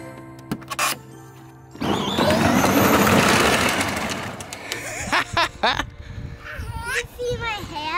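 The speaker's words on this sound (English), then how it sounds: "now we're gonna crank that thing all the way up" A modified Power Wheels ride-on toy car running on a DeWalt 20V drill battery whirs loudly at full speed for a few seconds, then fades as children's voices and adult talk take over.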